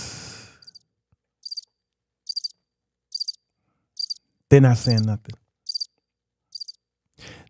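A crickets chirping sound effect plays as evenly spaced, short high chirps over silence, with one brief stretch of someone speaking in the middle.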